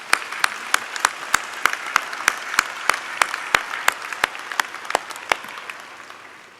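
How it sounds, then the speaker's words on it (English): A small audience claps at a university convocation ceremony, sparse individual claps ringing out one after another in a loose rhythm, fading slightly toward the end. "Vous pouvez l'applaudir."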